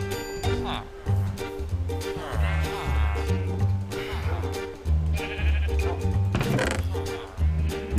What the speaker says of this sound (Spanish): Qué rápido comen hierba y les crece el pelo a la oveja esta